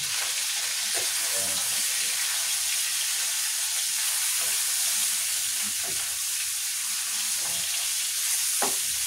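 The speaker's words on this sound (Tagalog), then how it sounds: "Kailangan lang natin na mag-prito yung ating chicken ng kaunti" Steady sizzling of chicken frying in hot oil, a dense continuous crackle with occasional sharper pops and stirring clatter, close and fairly loud, no talking.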